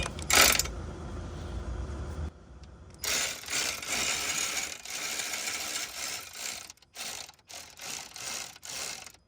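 Ratchet wrench clicking as it tightens a battery terminal on a 2019 Infiniti QX50 during a mobile battery replacement, with a loud rapid burst of clicks up front, then steady ratcheting in bursts separated by brief pauses.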